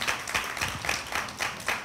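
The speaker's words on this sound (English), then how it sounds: "Let's give them a round of applause" An audience claps for the Mayor's Youth Academy staff at a council presentation, giving brief, rhythmic applause of several hands with evenly spaced bursts, moderately close, with no talking.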